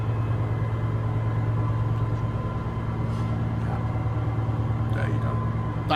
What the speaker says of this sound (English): A bit of echoey tunnel action, very nice.